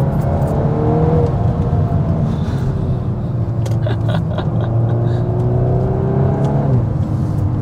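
A 2021 Volkswagen Golf R Mk8 hums steadily from inside the cabin as it drives, with engine tone rising and falling under acceleration through a constant loud road and wind roar.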